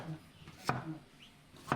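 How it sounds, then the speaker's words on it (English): Two sharp knife strikes on a cutting board as vegetables are chopped in a home kitchen, spaced about a second apart, against a faint hushed room background. "Then came all the chopping."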